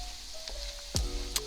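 Onions sizzle and fry in a pan as the base for a garlic pasta, a steady close crackle with a few sharper pops and a clatter near the end.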